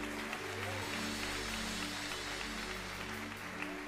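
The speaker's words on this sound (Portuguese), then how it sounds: "Você pode aplaudir ao Senhor?" A church congregation claps and cheers together in sustained applause, dense and steady throughout, with a low musical hum underneath.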